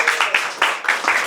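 Applause rises in repeated bursts as an audience on stage-show footage claps for a singer at her first concert, a dense, steady clatter of many hands, fairly close and loud.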